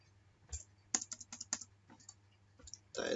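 HTML being typed on a computer keyboard: irregular, quiet, close key clicks in short runs separated by pauses, ending in a quick flurry of keystrokes.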